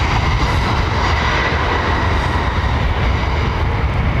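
Airliner landing at London Heathrow with weight settling onto the undercarriage and ground spoilers raised, a loud, continuous, dense roar of engine and rushing air close by, steady throughout with no voices.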